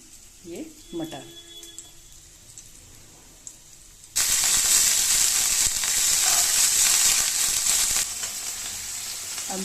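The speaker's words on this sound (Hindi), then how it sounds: "जब तक कि मटर की चाट छौंक लेती हूँ।" Peas with green chili hit a hot pan after a few light kitchen sounds, bursting into loud, continuous sizzling that holds for several seconds, then eases slightly.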